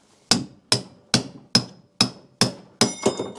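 Seven sharp metallic hammer strikes on a pickle fork driven against the pitman arm of a C3 Corvette's steering linkage, evenly spaced and loud with ringing decay, the last two coming closer together.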